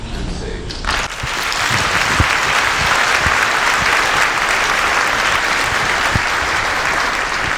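A conference audience at Rebel Capitalist Live applauds Jason Hartman onto the stage, a loud, dense burst of clapping that swells in after a brief quiet start and holds steady to the end.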